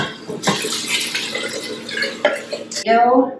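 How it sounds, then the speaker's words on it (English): Beef broth pours into a soup pot with cooked ground beef and vegetables, giving a short splashing gurgle that rises near the end. A voice talks over the liquid. "We're going to add in our beef broth"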